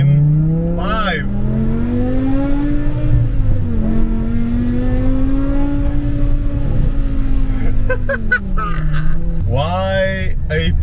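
A BMW E60 M5 petrol engine revs repeatedly up and down in a loud, close, sustained drone with rising and falling pitch, ending in sharper revs.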